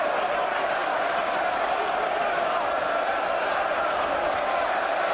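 A boxing arena crowd in a rematch between Carl Froch and Mikkel Kessler keeps up a dense, constant roar from start to end, with no single cheer standing out.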